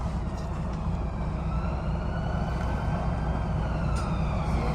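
An ambulance siren passes along a Liverpool street, its wail blending into loud, steady traffic rumble that stays dense for the whole stretch, with no voices.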